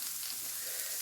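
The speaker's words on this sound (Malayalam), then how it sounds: "ചക്കക്കുരുവിന് ഇത് കടുകൊക്കെ വറുത്തിട്ട്" Mustard seeds fry in hot oil, sizzling softly and steadily with a fine crackling hiss, ready for cooking jackfruit seeds.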